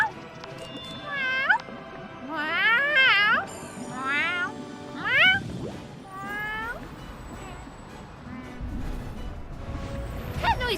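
A person imitates cat meows, several rising and falling yowls in a row at close range, with light clattering and background noise between the calls.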